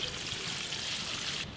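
Water pouring into a pot of Afghani Kabuli pulao with cumin, carrot and soaked raisins, a short steady splashing gush close by, ending abruptly.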